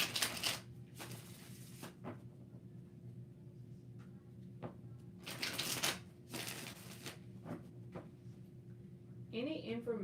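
Tarot cards being shuffled in several quick riffling bursts separated by pauses, close and fairly quiet, with a voice talking softly between the bursts.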